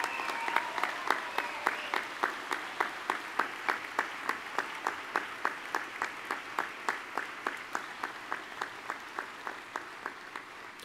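The crowd at Denison University's Class of 2020 commencement applauds. Loud, regular rhythmic clapping pulses at a quick steady beat over a bed of looser applause, with no speaking.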